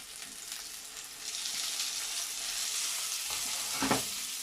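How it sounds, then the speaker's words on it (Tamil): Steady sizzling and frying of onion and tomato in a pan, with a few stirring scrapes, moderately loud and without talk. "இதுவும் நல்லா வதங்கிட்டு வந்து வெங்காயம் தக்காளி வதங்கிடுச்சு"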